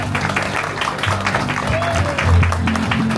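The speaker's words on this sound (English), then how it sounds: "How about a round of applause?" Audience clapping at the Mai Kai Polynesian dinner show, a sustained patter of applause mixed with background music and crowd murmur, moderately loud and continuous.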